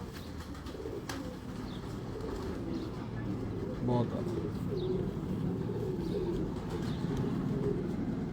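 Golden pigeons coo softly and intermittently, close by, against a steady background hum, with someone speaking briefly over them.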